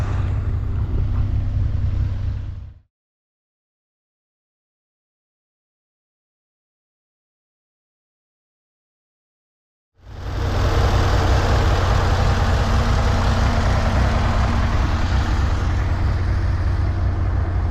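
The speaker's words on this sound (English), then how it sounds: "So we're gonna take it on a little test drive, take it around the standard" A 1963 Chevrolet Corvair with a fuel system problem out on a test drive: a steady, loud engine drone with wind noise that cuts to silence for several seconds, then returns just as strong.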